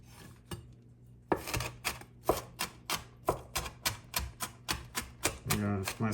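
A knife chops fresh turmeric root on a cutting board in a home kitchen, with crisp, evenly spaced strikes repeating about twice a second, close and clear.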